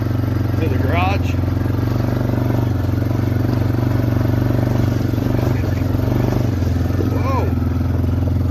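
Yamaha Wolverine side-by-side, freshly rebuilt, droning steadily in third gear as it climbs a hill, the engine loud and continuous with some clatter, while someone talks over it.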